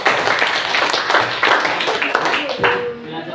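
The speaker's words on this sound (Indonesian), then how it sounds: "Oke, tepuk tangan untuk kawan." An Indonesian classroom applauds a classmate, a brief burst of scattered hand clapping from the students while a teacher's voice speaks over it.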